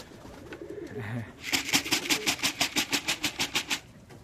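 Pigeons coo at a feeder on a spring day, a low soft burble at first, then a rapid rhythmic series of pulsing notes close by, with faint background noise.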